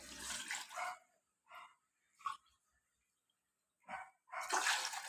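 Two glasses of water poured into a pot for a home remedy, two short splashy pours at the start and end with quiet gaps and faint clinks between.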